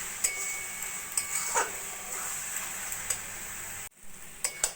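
Coconut naru mixture being stirred in a pan, with scattered scraping and tapping strokes of a spoon over a faint steady sizzle, quiet and close, with no voices.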